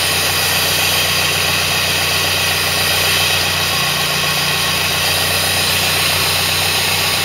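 A Land Rover Series engine idles steadily while warming up with the choke slightly on, a loud, even, continuous rumble with a low hum throughout and no talking.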